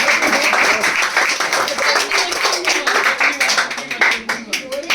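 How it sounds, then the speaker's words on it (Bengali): An audience at a school prize-giving ceremony claps for a prize winner: dense, loud, continuous applause with rapid overlapping hand claps that thin out slightly toward the end. "চন্দ্রিমার জন্য একটা জোরে করতালি দাও"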